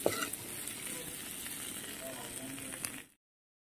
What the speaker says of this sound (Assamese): এতিয়া ইয়াতে পিঁয়াজ দিলোঁ, আদা ৰচুন দিলোঁ, দি এতিয়া অলপ ৰঙচুৱা কৰি লৈছোঁ ফ্ৰাই কৰি